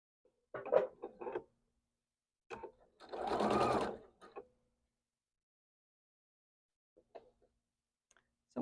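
A quilting sewing machine stitches fabric in a short whirring burst, framed by a few soft clicks and handling taps in an otherwise quiet room.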